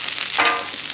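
Mixed vegetables (cabbage, lettuce, carrots, onion and green onion) hit a hot hibachi grill with a sudden burst of hissing sizzle, then the frying settles to a steady crackle.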